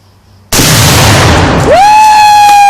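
One pound of tannerite detonates against a tree after being shot, a sudden extremely loud blast that rolls on with a sustained roar, then a rising shrill whistle-like ringing tone.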